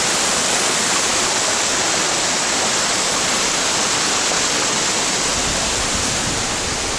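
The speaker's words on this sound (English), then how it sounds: "I see a big waterfall coming." A steady, loud roar of a waterfall near Stickle Tarn fills the scene, continuous and broad like rushing spray, with no other sounds breaking through.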